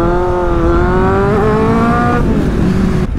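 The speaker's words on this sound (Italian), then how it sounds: "Non è facile impennare sta moto." A motorcycle engine pulls hard under acceleration on an open road in Romagna while the rider lifts the front wheel, one strong rising drone that eases off near the end and stays loud and close throughout.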